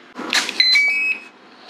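High electronic beeps from FPV goggles during binding ring out, one short tone then a longer steady one, close and clear over faint background noise.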